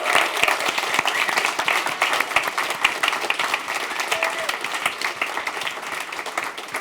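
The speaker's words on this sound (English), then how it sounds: "Just a quick round of applause to really thank them for their amazing work tonight" An audience at a member meeting claps to thank vendors, partners and staff, a lively, fairly close round of applause with distinct individual claps and crowd murmur running the whole way.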